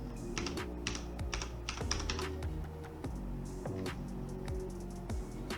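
Rapid typing on a computer keyboard, entering a command-line option during a sqlmap tutorial; steady bursts of close, crisp key clicks with no speech.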